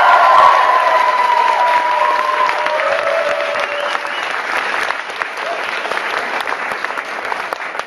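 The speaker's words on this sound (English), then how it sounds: "Big round of applause" Applause from a university dance-competition audience for the judges, lively clapping mixed with a few cheers and some voices in the crowd, loud at first and easing slightly while staying steady throughout.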